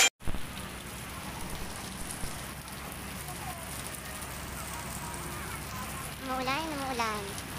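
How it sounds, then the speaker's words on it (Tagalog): Rain falls steadily outdoors at a small home in the Philippines, a soft continuous patter beneath a voice speaking, with some faint tonal background sounds toward the end. "Umuulan, umuulan."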